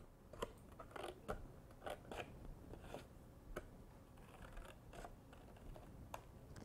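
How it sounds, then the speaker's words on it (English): Scissors cut carefully through folded paper along the crease, making a string of quiet, close snips and crisp clicks at an irregular pace, with no voices. "We can take our other half and also cut it very carefully along the crease."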